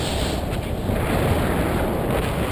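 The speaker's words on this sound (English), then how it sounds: "Oh, southwest wind." Steady broadband wind rushes across the microphone throughout as a hang glider flies its landing approach in a southwest breeze, a constant roar with no voices.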